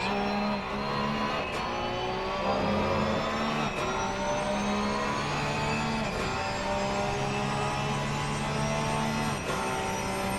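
Race car engine in a racing video game at Zandvoort, a loud sustained drone with harmonic pitch sweeps as the revs rise and drop through gear changes, continuous across the whole stretch.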